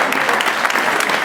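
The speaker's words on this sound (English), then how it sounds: "So, first of all, round of applause for all you guys." Applause from a startup weekend crowd fills the space, a short steady burst of many hands clapping close by with no break.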